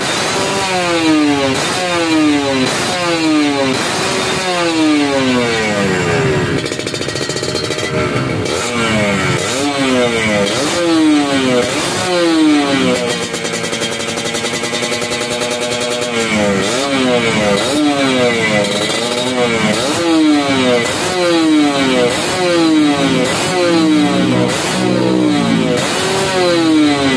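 A Kawasaki Ninja 150 RR two-stroke motorcycle engine with an aftermarket exhaust system revs repeatedly, rising and falling in sharp, buzzy bursts, loud and close throughout.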